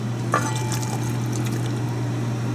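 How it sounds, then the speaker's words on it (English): Hot pickling liquid of boiled vinegar and melted sugar poured over sliced cucumbers, a soft, close splashing trickle over a steady low hum, with no talking. "we'll pour this over the cucumbers to pickle it"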